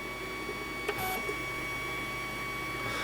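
A quiet, steady mechanical whir with a faint high whine, broken by a soft click or two partway through, from an open-frame 3D printer running nearby.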